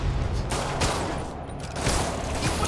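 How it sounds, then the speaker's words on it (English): Rockets firing and exploding in the Marvel's Spider-Man video game, a continuous loud barrage of blasts and booms with dense rumbling debris throughout. "More rockets? A little excessive, don't you think?"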